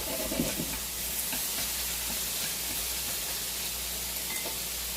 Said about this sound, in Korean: 양파 완전 다 익을 때까지 볶아주시고